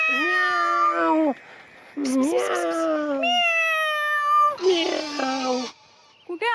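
A human voice imitates a cat's meows, several drawn-out calls in a row during a scene from a Marathi TV serial, loud and close, with other voices around.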